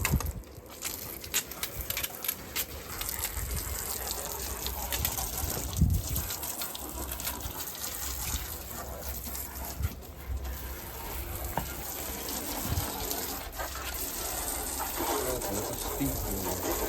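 Water gushes and splashes steadily after restarting a BMW E34 540i that sat for two years, a broad continuous rush with occasional thumps and some faint voices in the background.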